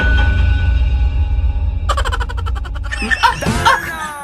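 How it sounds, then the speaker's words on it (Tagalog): A dog barks near seaside houses in the Philippines: a burst of sharp, yelping barks comes in after a steady background hum, and several louder calls follow close together toward the end. "Aso."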